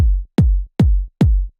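A trance kick drum layered with a top kick strikes four times in a steady pulse, each loud hit pairing a deep boom with a sharper attack on top.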